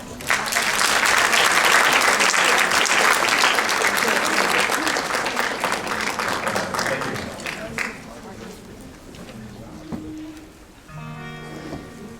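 A university lecture audience applauds to welcome the speaker, loud dense clapping from a large crowd filling the hall, then thinning and fading after about eight seconds.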